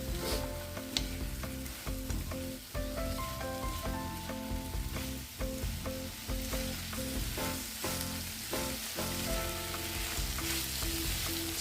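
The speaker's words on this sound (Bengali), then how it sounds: "চিকেনটা দিয়ে আমি কিছুক্ষণ নেড়ে চেড়ে আমি একটা মিক্সচার বানিয়ে নিচ্ছি।" Pieces of chicken fry loudly in a pan while they are stirred, a dense crackling sizzle broken by rhythmic scrapes and clatters of the spatula, close and without any voice.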